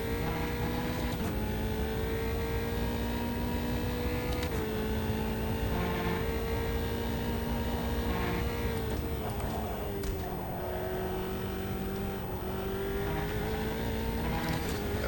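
Race car engine droning steadily through laps of Donington in Automobilista 2, a continuous high rev note that dips and climbs with gear changes and corners, loud and constant throughout.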